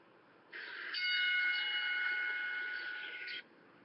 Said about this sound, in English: Notice how it's just the bell and not the beeps and the honking and stuff.